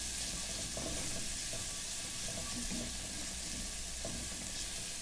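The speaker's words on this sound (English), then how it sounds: "So, just let this cook down a little bit. Saute real good without burning it." BBQ sauce ingredients sautéing in a pan: a steady, even sizzling hiss with faint crackles and occasional soft stirring scrapes underneath, continuous throughout and without speech.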